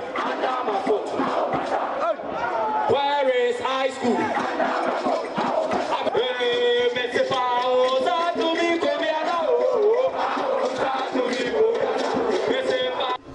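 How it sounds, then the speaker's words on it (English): Kumasi Technical Institute students, the T-Square boys, cheering and chanting loudly as a packed group, with rhythmic shouting and singing sustained throughout and a voice calling out over the noise. "The T-Square boys of the Kumasi Technical Institute couldn't stop cheering up the crowd"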